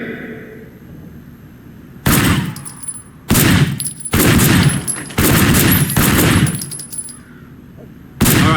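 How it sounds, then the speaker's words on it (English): Gunfire rings out at a shooting range in the video game Sleeping Dogs, with loud close bursts of rapid shots in several separate volleys after a quiet opening, and no talk over them. "Officer Shen, take up a firing position."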